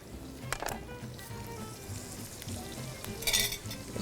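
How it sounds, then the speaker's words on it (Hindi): Crushed black cardamom seeds with their husks sizzle steadily in hot oil in a pan, a continuous crackling fry with a few sharper spits near the end. "इसको थोड़ा सा फ्राई करेंगे"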